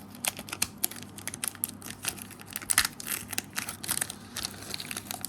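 A trading card booster pack is torn open by hand, with a quick series of crinkling, tearing foil crackles and small rustles close up, no talking.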